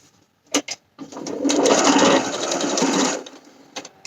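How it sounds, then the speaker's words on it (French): Sewing machine running a continuous stitch along a blouse seam, 2-3 mm from the edge, preceded by a couple of short clicks and ending with brief taps; steady, close and loud. "je pique ici à 2-3 mm du bord sur tout le long"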